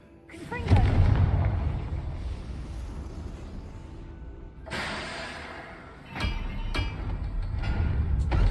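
Deep booming spell blasts from Confringo in Hogwarts Legacy: a heavy burst near the start, then rumbling low noise with further sharp cracks and booms later, no talking.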